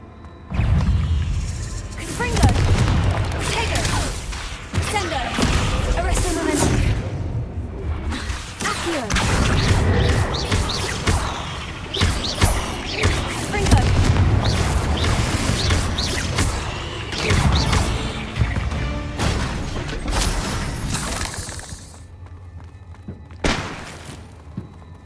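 Spell blasts including Confringo in the Hogwarts video game, loud whooshing casts with thuds and crashing impacts in quick succession, mixed with battle noise and a voice speaking over the action.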